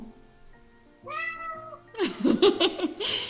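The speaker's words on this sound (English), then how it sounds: "Why are they meowing so hard?" Pet cats meowing in a home, first a soft low sound, then a drawn-out clear meow, followed by several loud overlapping meows and yowls close to the microphone.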